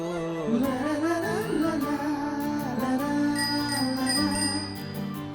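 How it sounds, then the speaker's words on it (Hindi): A bicycle bell dings again and again in quick, bright rings over a steady musical background. "मतलब कि साइकिल की घंटी चेक कर रही हूँ।"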